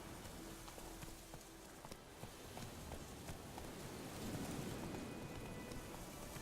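Horse hooves clop along in the video game Witcher III: Wild Hunt, a quiet, steady series of muffled footfalls over a soft background wash, staying faint and even for several seconds.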